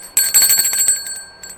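Bright metallic bell rung as an attention cue during an English phonics lesson, a rapid rattling ring that fades, followed by a couple of fainter taps.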